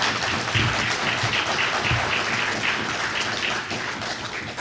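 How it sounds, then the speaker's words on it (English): Applause from a conference audience fills the room, a steady dense clatter of many hands clapping for a speaker at a state of the sector event on small and medium businesses, lasting several seconds. "I want to give her a round of applause."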